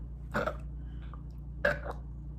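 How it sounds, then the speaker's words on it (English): Two deep, throaty burps that sound stuck in the throat, short and close, about a second apart, over a low steady hum. "I hate when my burps like sound like they're stuck in my throat."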